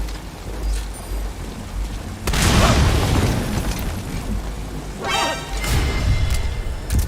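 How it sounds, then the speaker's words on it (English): Explosion in the stealth game Metal Gear Solid V: Ground Zeroes, a sudden loud broadband boom that rumbles and decays over a few seconds, followed by a second blast-like surge, set against a steady noisy ambience. "Heard an explosion. Location unclear."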